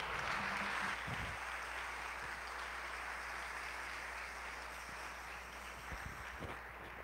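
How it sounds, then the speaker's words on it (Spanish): Applause from a congregation at a Catholic Advent Mass, the Misa de Aguinaldo, a broad steady wash of clapping that fills the church and fades slightly toward the end, with no talk over it. "Un fuerte aplauso."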